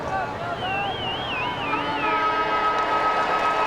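An end-of-quarter siren sounds at a 1996 Australian football match between North Melbourne and Fremantle, a wavering tone over a loud continuous crowd roar, with a commentator talking over it.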